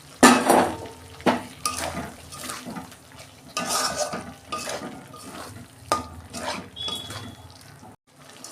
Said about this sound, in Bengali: পটলগুলো দিয়ে এরমভাবে ভালো করে কষে নিতে হবে